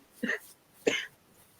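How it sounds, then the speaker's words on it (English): Two short, close coughs about half a second apart, separated by near silence. "Oh, you're coughing and everything."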